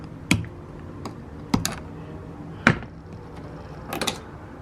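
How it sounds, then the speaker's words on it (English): Side cutters snip a zip tie off a Toyota Tacoma door handle, giving a few sharp, close clicks spaced about a second apart, with light plastic rattles in between and no talking. "I can finally do the honors of cutting this zip tie off."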